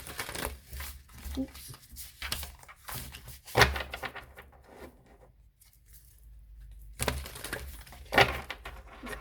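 Slippery tarot cards being shuffled by hand in short riffling bursts separated by quiet gaps, close up, with a voice speaking briefly.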